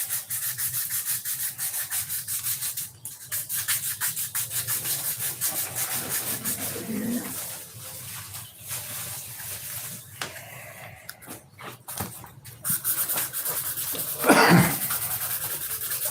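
Hand sanding of thick car paint with fine-grit sandpaper, long steady scratchy rubbing strokes close up, pausing now and then, with a short sniff or sneeze near the end.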